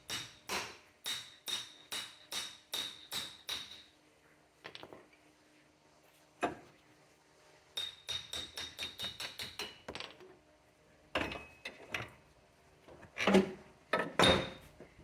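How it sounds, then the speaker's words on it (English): Bursts of sharp metallic hammer blows ring out in rapid runs against a CV axle on a 2007-2013 Chevy Silverado or GMC Sierra, pausing between volleys, with a few isolated strikes in the gaps. "May need to smack it with a hammer of sorts."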